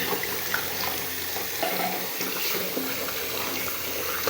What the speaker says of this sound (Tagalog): Tapos dagdagan natin ang tubig.